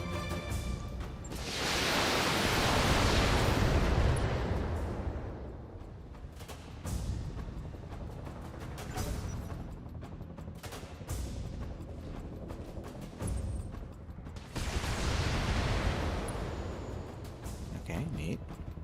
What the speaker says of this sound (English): here goes my last batch of long-range missiles